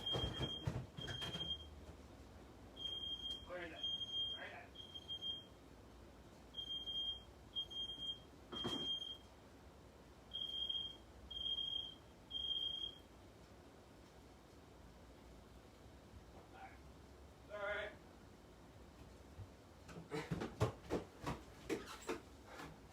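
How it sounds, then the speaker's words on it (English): A distant smoke alarm, set off by incense, chirps in repeated bursts of high shrill beeps, faint and far off in a quiet room, with occasional soft knocks and rustling. "set off a smoke detector all the way down in my daughter's room?"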